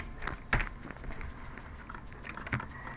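A few keystrokes on a computer keyboard as a material name is entered, with two sharper taps standing out against a low background hum.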